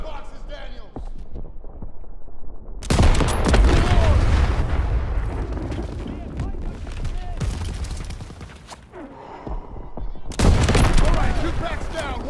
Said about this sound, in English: Thanks for the fire support, Daniel!